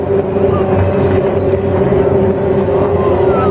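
Racing motorboats lapping a course at a powerboat race, a steady loud engine drone with a sustained tonal hum, continuous and fairly near throughout.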